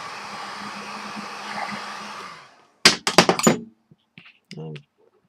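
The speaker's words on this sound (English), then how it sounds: "what I like to do is a little bit of heat, either a heat gun, hair dryer, warm it up." A heat gun blows with a steady whirring hiss while warming 3M matte vinyl wrap, then cuts off, followed by several sharp knocks and clatters and a brief voice.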